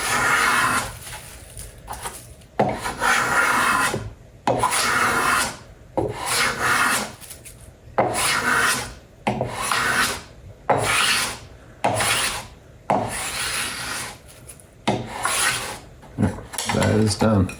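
Sharp hand plane shaving wooden chopsticks along the grain, repeated rasping strokes in a steady back-and-forth rhythm, close and fairly loud, with short pauses between passes.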